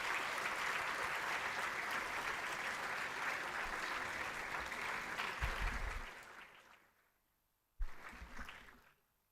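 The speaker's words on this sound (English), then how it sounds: "give a huge round of applause for the dignitaries" Applause for the dignitaries from students and parents at a college orientation program, a broad, fairly quiet wash of clapping that tapers off, pauses briefly, then surges again and fades.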